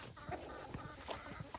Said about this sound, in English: we have 2 roosters and 22 hens in this bunch